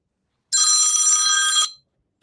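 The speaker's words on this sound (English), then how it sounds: "Ignore this phone of mine." A mobile phone rings in one loud, bright electronic burst of about a second that starts abruptly and then fades, heard alone in an otherwise quiet room.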